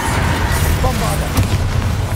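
Bombarda blasting spell explosion in Hogwarts Legacy, a heavy booming blast with a rumbling low end, loud and close, with a voice speaking over it.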